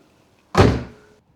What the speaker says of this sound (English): These doors have a sort of empty, hollow sound when you close them really hard